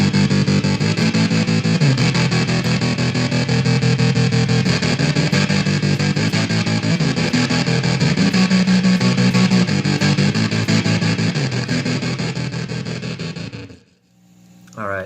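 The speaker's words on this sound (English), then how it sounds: "So to reiterate, this is only the boss making the distortion." Heavily distorted electric guitar from a BOSS DD-500 delay pedal chugs loudly and continuously for about fourteen seconds, then cuts off abruptly into near silence before a brief final note.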